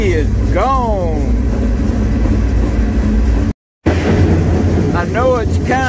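A CSX freight train pulling out, heard while riding a grain hopper car, with heavy continuous rumble and repeated wavering wheel squeals, broken by a sudden brief dropout to silence midway.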